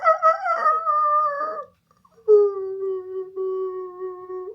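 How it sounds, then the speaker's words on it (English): A dog whimpers in a high, wavering whine, pauses briefly, then lets out a long, steady mournful howl, close and fairly quiet. "Sad puppy."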